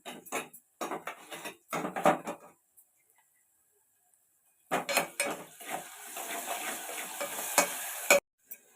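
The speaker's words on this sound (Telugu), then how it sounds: "అల్లం పేస్ట్ కూడా కొద్దిగా వేసుకోవచ్చు అల్లం పేస్ట్ వేస్తున్నాను" Ginger paste dropped into a frying pan with onions and stirred, bursts of scraping and clinking utensil strokes around a brief silent gap, then steady sizzling and stirring, close and clear with no talk.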